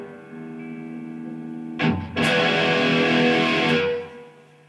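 A Paul Reed Smith PRS SE 245 electric guitar rings out through its pickups, one struck chord sustaining loudly for about two seconds before fading, with no talk.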